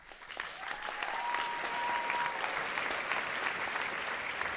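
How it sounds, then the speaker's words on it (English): Studio audience applause, a dense steady wash of clapping that holds at an even, fairly loud level throughout, with no voices over it. "And that's good applause right there."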